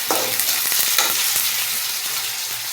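Blended ginger and garlic paste frying with browned onions in a pan for a tomato prawn curry, a loud close sizzle with quick scraping stirs and clinks at the start.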